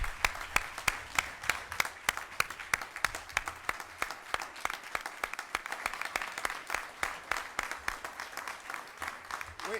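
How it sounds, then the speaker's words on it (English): Sustained crowd applause for Engine Company 12 firefighters at a Macon-Bibb County commission meeting, dense steady clapping from a room of people lasting throughout, with a faint voice underneath. "If y'all help me give a round of applause to our firefighters."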